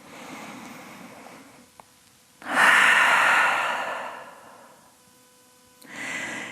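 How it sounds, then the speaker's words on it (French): During a yoga class, one person takes a deep breath through the nose or mouth, heard close up: a long airy inhale swells and fades, followed by a shorter breath. "on prend une grande respiration ici"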